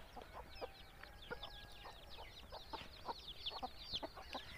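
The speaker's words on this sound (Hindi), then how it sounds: "ये मेरा मात्र 2 दिन का चूजा है" Tiny two-day-old chicks peep in a steady stream of high, quick chirps overlapping one another, fairly faint, with no talking.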